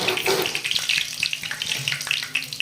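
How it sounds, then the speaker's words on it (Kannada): Whole cumin seeds crackle and pop in hot oil in a kadai for restaurant-style aloo dum, a dense run of sharp sputtering ticks over a steady hiss, close and fairly loud, with no talk. "ಜೀರಿಗೆ ಹಾಕೊಂಡು ಕೂಡ ಒಂದು ಸ್ವಲ್ಪ ಚಟಪಟ ಅನ್ಬೇಕು ನೋಡಿ"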